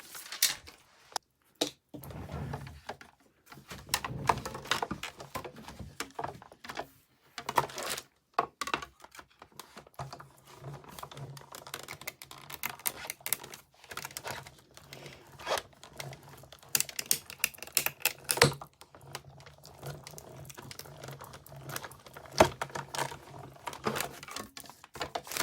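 A die cutting machine runs card through its rollers with steady mechanical clicking and grinding, broken by short louder knocks and pauses, close and fairly quiet throughout.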